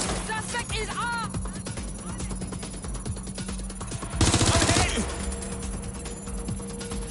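Gunfire in the video game Watch Dogs Legion, with a burst of rapid shots about two-thirds of the way through amid game noise and background effects.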